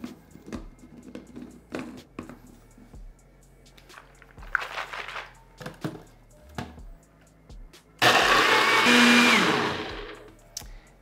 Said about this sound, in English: So I'm gonna throw this onto the Magic Bullet. Technically it's my NutriBullet. Blend this up until nice and creamy,